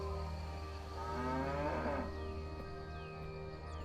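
A cow at a farm stable gives a single long, low moo that rises and swells in the middle, set against a steady background hum.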